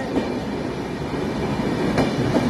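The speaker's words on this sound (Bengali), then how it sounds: "ট্রেন পুরো দমে ছুটছে।" Passenger train running at full speed, a dense continuous rushing roar of wheels and rails with faint rhythmic knocks, steady and close, with no voices.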